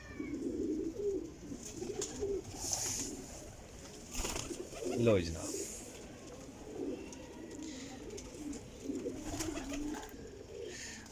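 Golden pigeons coo in soft, repeated low throbs from a loft, with someone talking over them and a brief higher bird call partway through.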